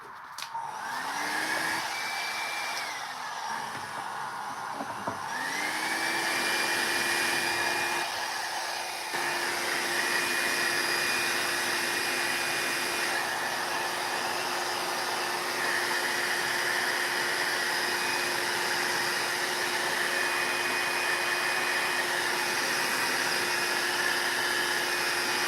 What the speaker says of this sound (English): the other nice thing about using that hair tool is that it's warm, so it helps it dry, but it doesn't warp your paper